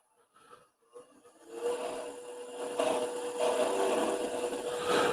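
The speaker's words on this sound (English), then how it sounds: "So now we're going to put a little dimple in there and do some drilling." A power tool drills into a wooden branch handle during woodturning, starting with a few faint taps and then building into a loud, continuous grinding whir that runs to the end.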